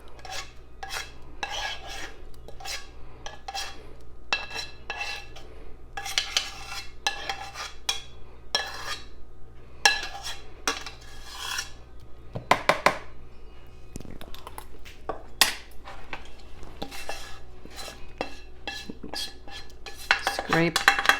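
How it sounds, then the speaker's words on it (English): A utensil scrapes a cheese, mayonnaise and asparagus mixture out of a bowl for a casserole, with repeated close scraping strokes and clinks of metal on the dish. "Scrape it all out. We don't want to miss any of it."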